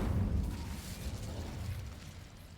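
Incendio fire spell cast in Hogwarts Legacy, a deep rumbling whoosh of flame that starts loud and tails off into a low roar over a couple of seconds, with no voice.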